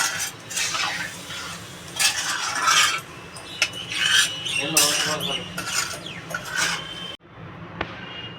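Metal lid clattering onto a curry pot of cauliflower and prawn curry in a home kitchen, a few sharp clinks and scrapes over a steady background hiss, ending in a brief pause.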